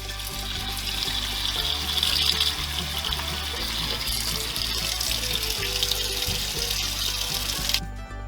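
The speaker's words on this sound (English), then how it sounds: "The next step in our carrot canning course is to cover our carrots with water." Tap water pours into a pot to cover carrots for canning, a steady rushing splash close by that stops abruptly near the end.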